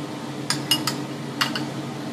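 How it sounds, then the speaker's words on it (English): A spoon spreads a mustard and pepper mix over steak, giving a few light metallic clinks and taps against the dish, spaced irregularly and close by, with quiet background between them. "you can dole it out like this, and spread it around with a spoon"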